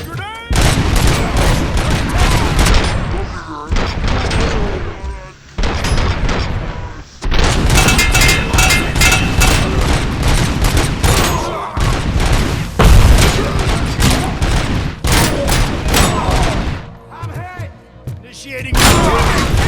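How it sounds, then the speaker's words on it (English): A grenade blast and sustained gunfire rip through a firefight in the RoboCop: Rogue City video game, with loud booms and rapid shots nearly continuous and dense, a voice speaking over the battle. "Throwing grenade!"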